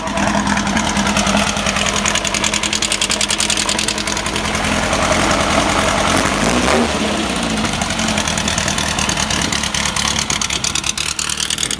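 A Meyers Manx engine with an open header cranks and runs close by, a loud, rough, continuous mechanical roar with uneven throbbing pulses and no talk over it.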